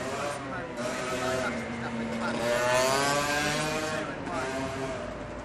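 A motorbike engine rises and falls as it passes nearby, its whining drone swelling loudest midway, with people talking outdoors over it.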